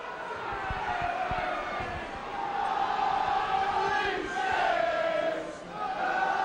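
A stadium crowd at Belle Vue murmurs steadily through a 2010 Wakefield versus St Helens rugby league match, a broad distant roar swelling slightly at times, with a few soft thuds underneath.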